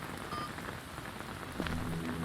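Steady rain pours down on a wet night outside a huge spooky house, a dense even hiss of drops on surfaces with no voices.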